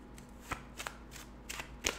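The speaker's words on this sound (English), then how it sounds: "I'm gonna shuffle the deck." Playing cards shuffled during a birthday livestream, heard as a few quick riffling bursts spaced across two seconds, fairly quiet and close, with no talk over them.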